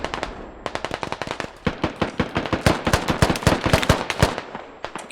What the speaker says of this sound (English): Can't even tell if that was enemy shooting or friendly there.